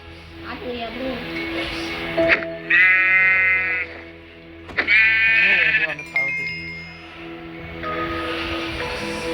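Sheep bleat outside a house in repeated loud, wavering calls in several bursts, with steady background hum and people talking.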